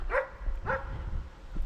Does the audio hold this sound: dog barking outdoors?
yes